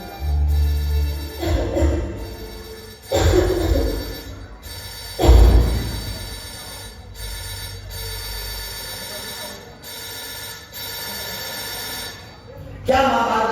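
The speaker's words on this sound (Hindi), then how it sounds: "तभी उसकी माँ उसे लगातार फोन करती रहती है।" A telephone rings over and over in repeated bursts with short gaps between them, loud and close against a steady low background hum.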